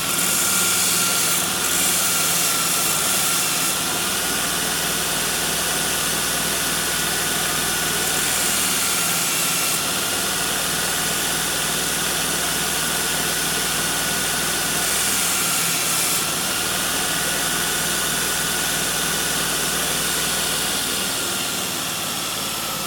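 A belt grinder runs continuously as a golf wedge's heel is ground down, a loud steady mechanical whine and rush with slight swells as the metal is pressed against the belt, close and unbroken for over twenty seconds.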